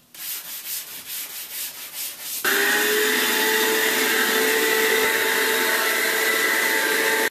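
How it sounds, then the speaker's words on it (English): Hand sanding of baseboard or crown molding trim with a sanding sponge while prepping for house painting, heard first as a soft rhythmic rubbing, then as a steady, loud, continuous whir like a vacuum or power sander running alone. "you're going to want to give that a cuff with the sanding sponge"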